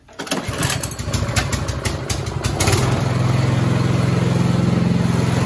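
A Cub Cadet 524 snow blower engine is pull-started with a few rough rasping tugs before catching and settling into a steady, loud, close idle drone.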